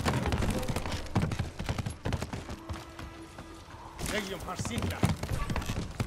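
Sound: horse galloping in video game Ghost of Tsushima

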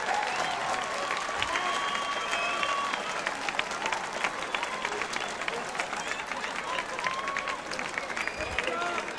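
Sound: crowd applause at a fight decision

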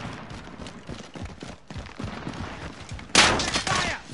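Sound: gunfire in Warzone video game

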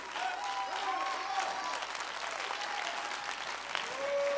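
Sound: women in audience applauding

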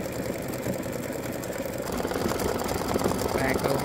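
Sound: embroidery machine stitching a flamingo design

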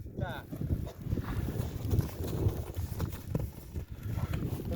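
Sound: young draught mare moving, hooves clip-clopping

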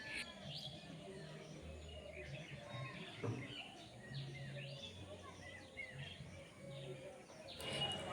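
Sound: birds chirping in the early morning

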